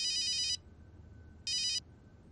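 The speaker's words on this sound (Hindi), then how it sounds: "फोन।" A telephone rings in two short electronic bursts, the first about half a second long and the second after a brief pause, loud and clear over a quiet room hum.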